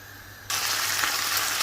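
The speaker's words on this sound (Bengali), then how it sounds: "হাই হিটে ভাজছি, তারপরেও কি পরিমাণ পানি গোশত থেকে বেরোচ্ছে।" Beef sizzling and frying in a pan over high heat, its moisture cooking off; after a brief quiet start, a loud, steady, dense crackle and hiss fills the rest, close up and alone.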